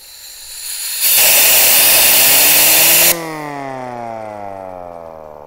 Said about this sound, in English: go ahead and run some compressed air through it, and this is how the meter should sound